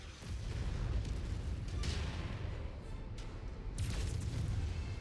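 Artillery fire in the video game Mechwarrior 5: a dense, continuous rumbling roar of blasts and booms that rolls on without a break, swelling louder toward the end.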